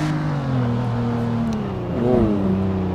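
A stolen car's engine revs in Garry's Mod, a steady mid-pitched drone that climbs in pitch near the end, loud and continuous with no talk over it.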